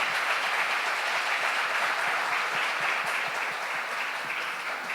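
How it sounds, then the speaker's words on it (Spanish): An audience of believers breaks into steady, sustained applause, a dense even wash of clapping from a sizeable group lasting the full five seconds without pause. "Denle un aplauso al Señor."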